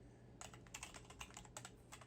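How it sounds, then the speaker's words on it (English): Fast, steady keystrokes on a computer keyboard, a quiet run of close clicks with no voices. "I'm typing"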